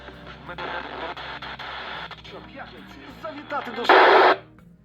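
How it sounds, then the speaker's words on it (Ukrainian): FM radio broadcast from a Radtel RT-730 handheld set, with tinny talk and a burst of static hiss near the end before it cuts off. "Ось так звучить нас радіо."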